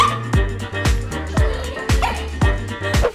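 A dog barks at home in a series of six sharp, loud barks at a steady rhythm, each about half a second apart, close by with some whimpering between them.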